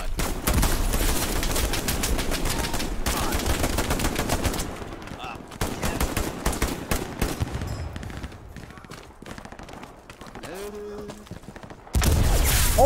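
Sustained automatic gunfire sprayed in the World War II video game Hell Let Loose during a D-Day city assault, loud rapid bursts with distant shots and a brief lull before firing resumes.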